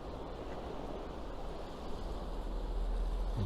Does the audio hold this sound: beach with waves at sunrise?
yes